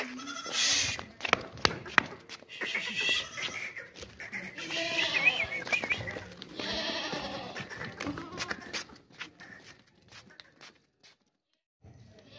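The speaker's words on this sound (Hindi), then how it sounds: "बहुत ही खूबसूरत बच्चा बकरी है।" Goats bleat, an adult and a young kid for sale, with repeated close cries through the first half and fainter calls later, thinning into near quiet by the end.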